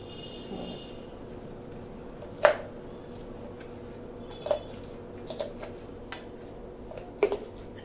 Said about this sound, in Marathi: एवढ्या सात आठच पाकळ्या मिक्सरला निघणार नाही म्हणून अशा वाटीनेच अशा चरडून घ्यायच्या